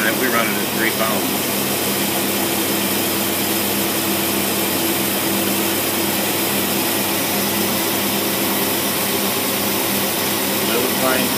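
A Buick engine with a 1964 Carter AFB carburetor runs at a steady idle, giving a loud, continuous broadband roar and hum that holds throughout without a clear change in pitch.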